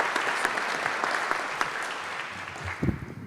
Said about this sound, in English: So let's give Jamie a round of applause for his accomplishments